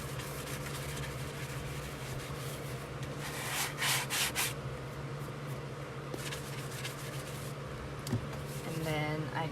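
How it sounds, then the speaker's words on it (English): Hand sanding a glitter tumbler with 220 then 320 grit sanding blocks: steady gritty rubbing strokes, close and continuous, with a few louder swipes partway through. "This is 220 and then 320 sanding block"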